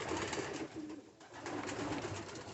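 Pigeons coo softly inside a photo box, giving low, continuous bird murmurs close by over a steady hiss, with no talking.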